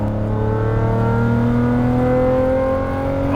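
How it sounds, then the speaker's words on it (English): A Lamborghini Murcielago V12 with an aftermarket exhaust gives a loud, deep engine roar with a rising pitch as it revs steadily, rich exhaust drone sustained throughout, close by. "Obviously it's crazy loud because of this aftermarket exhaust, but Ivano told me"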